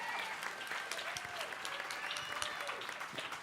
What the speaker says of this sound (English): Would you give them a huge round of applause?